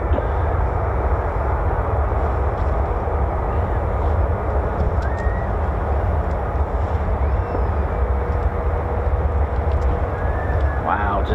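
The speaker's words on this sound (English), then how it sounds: "Yeah, that is an F-35 ground run" An F-35 fighter jet runs its engine on the ground at RAF Lakenheath, giving a constant distant roaring rumble that holds steady throughout while a person speaks over it.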